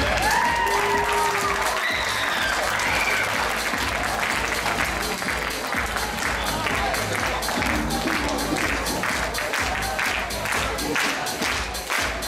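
A crowd at a cosplay masquerade and skits event claps in a dense, sustained round of applause, loud and continuous, with scattered cheers mixed in.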